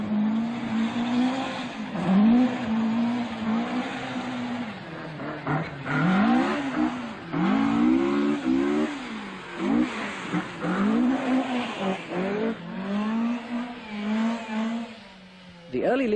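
Rally cars at speed on a tarmac stage of the 1978 RAC Rally, engines droning and rising and falling through gear changes in a steady, loud passage, with a voice talking over them.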